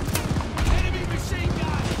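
Enemy machine gun fire during the Battle of El Alamein in Call of Duty Vanguard, a quick run of loud, close, overlapping shots in a brief burst of combat.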